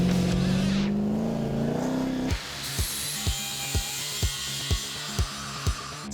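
A Daytona car, rebuilt from a junk car stripped to the bare shell, has its engine revved with a rising roar, then a regular ticking clatter repeats close by.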